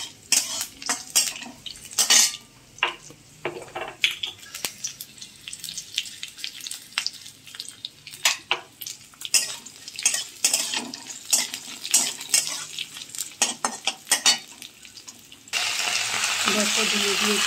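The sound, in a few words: frying chopped kharkol leaves and stalks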